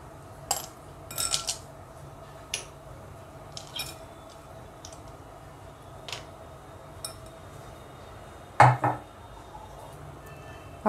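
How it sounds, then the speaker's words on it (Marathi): Ice cubes clink and clatter as they drop into a serving glass of mango lassi, a few sharp bright knocks spread out, the loudest near the end, over a quiet kitchen background with no talk. "यात आता आपण थोडेसे बर्फाचे खडे घालूया।"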